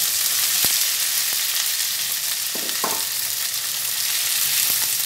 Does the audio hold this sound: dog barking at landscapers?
no